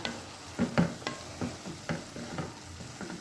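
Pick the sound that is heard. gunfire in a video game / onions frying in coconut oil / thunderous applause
onions frying in coconut oil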